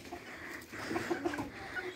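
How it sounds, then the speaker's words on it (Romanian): Rooster and hens in a backyard poultry yard giving soft clucks and short calls, a few brief notes clustered near the middle, close and faint with no talk over them. "splendid cocoșul ăsta"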